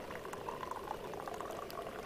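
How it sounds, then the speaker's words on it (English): Coffee poured from a container into a bowl of oatmeal during a road trip, a steady, close liquid rush with a faint bubbling texture that holds even for about two seconds, with no talking. "Should I just water your oatmeal down with the coffee?"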